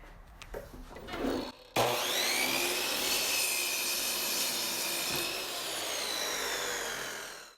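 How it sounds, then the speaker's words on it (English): A motorized saw cuts steadily through a pallet wood board, a loud continuous rasping buzz that holds for several seconds after a few short scraping sounds at the start. "My saw wasn't long enough to cut through this board, so, yep, you guessed it, I had to flip it over to finish the cut."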